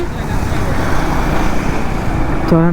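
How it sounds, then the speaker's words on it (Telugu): Steady road traffic along Vizag beach road around midday: a continuous broadband rumble of passing cars, autos and heavier vehicles, loud and close, with a short horn-like tone near the end. "ఈ టైంలో చూడండి ఇక్కడ ట్రాఫిక్ ఎలా ఉంది ఎంత ట్రాఫిక్ ఉందో"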